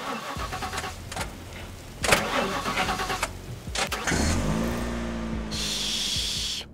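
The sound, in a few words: car engine starting in video game The Last Stand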